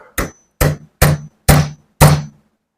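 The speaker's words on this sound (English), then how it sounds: "Put a screwdriver under it, right there. Give it a tap with my hammer." Five sharp, evenly spaced hammer taps strike a screwdriver wedged under a part during disassembly of an HW50s .177 air rifle, each a loud metallic thunk with a short ring, close up and with no talking.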